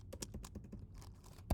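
Keys on a computer keyboard are tapped in a quick, irregular run of soft clicks, fairly faint and close, ending with one firmer keystroke.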